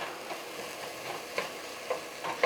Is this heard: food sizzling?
yes